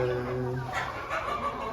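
Silver ornamental chickens and roosters in a crowded coop holding around 25-30 hens and 5-6 roosters: close clucking and fowl calls rise and fall in short bursts over a low background murmur.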